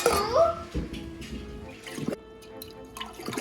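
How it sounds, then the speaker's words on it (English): Water pours and splashes into a tank during a children's sink-or-float experiment, with uneven gurgles and drips close by, interrupted by brief clatters of objects. "We're filling this tank up, aren't we?"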